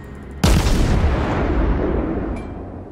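Naval guns fire a salvo in the World of Warships game, a sudden loud blast that sets off a long booming rumble, then a slow fade.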